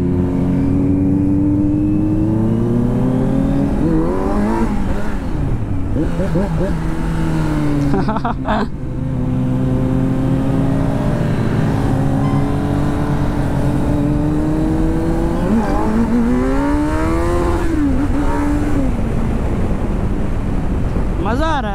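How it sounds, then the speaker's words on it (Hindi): A KTM Duke 390 and a Kawasaki Z900 rev and speed along a road, engine pitch rising and falling through gear changes under heavy wind rush, with someone talking briefly over the riding noise. "हम लोग थोड़ा भगा रहे बाइक को।"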